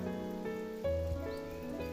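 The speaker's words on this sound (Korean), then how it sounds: "바람도 없이 조용히 비가 내립니다." Gentle spring rain falls without wind on a countryside farm, a soft, steady patter with faint tonal sounds in the background.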